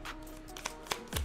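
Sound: tarot cards being shuffled

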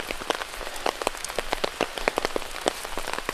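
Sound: rain falling around small hut in rice field

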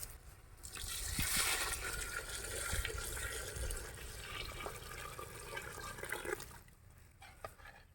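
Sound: hot water poured into pot for chicken biryani rice

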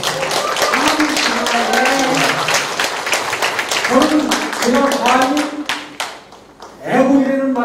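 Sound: audience applauding for the mayor

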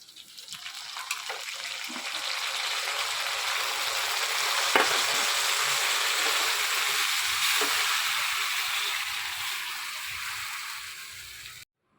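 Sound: vegetables added to a pan and frying for shukto

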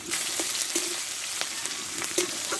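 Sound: chopped onions frying in oil

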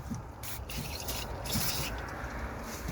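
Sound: spraying penetrating electrical contact cleaner spray

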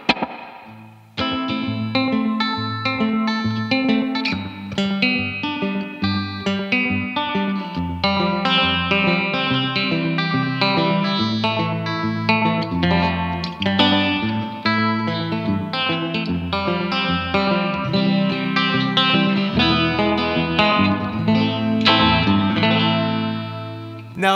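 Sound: slapback delay on banjo-guitar

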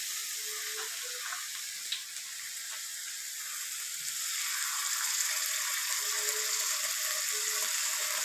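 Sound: tomato sauce added to chicken sizzling in a pan

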